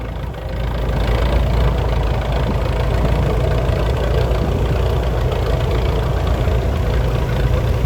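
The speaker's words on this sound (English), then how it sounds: "a Fordson E27 dual drive of 1949, owned by G. Carmen of Croston" A 1949 Fordson E27 dual drive tractor at a vintage rally runs close by, its engine rumbling steadily and loud from start to finish with no talk.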